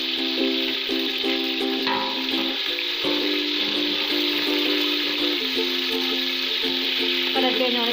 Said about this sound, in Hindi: कलर चेंज होने तक फ्राई कर लेंगे